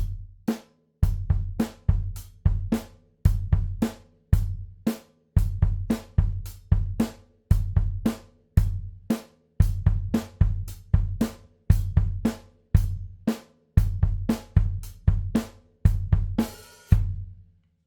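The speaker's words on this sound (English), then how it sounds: "quarter notes on the hi-hat. I'm going to just use closed hi-hats to start with." Crisp, evenly spaced closed hi-hat hits repeat in a steady quarter-note pulse for the whole stretch, each with a short tight decay, played alone and close.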